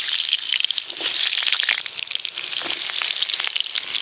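Potatoes and eggplant fry in a pan as prep for a fish curry, giving a loud, steady, close sizzle that holds throughout with small crackling bursts and no talk.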